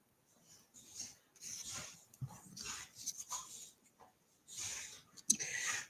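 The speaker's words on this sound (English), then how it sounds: "If you can hear any heavy breathing in the background, it's my dogs playing." Dogs playing and wrestling indoors, with bursts of heavy panting and snuffling breaths, soft whimpers and scuffling, coming in irregular clusters close by with brief pauses between.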